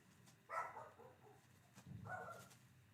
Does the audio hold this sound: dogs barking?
yes